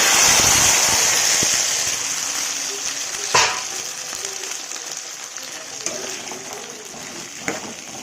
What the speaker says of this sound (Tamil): நல்லா ரோஸ் ஆகட்டும் நல்லா வதக்குங்க